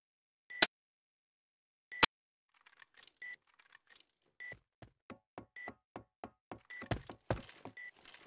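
Sharp electronic beeps from a planted bomb in the video game Point Blank sound at intervals, widely spaced at first and then quickening into a faster ticking run, with a couple of low thuds near the end.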